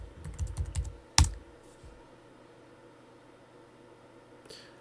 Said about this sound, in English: So I'm going to type in /build develop.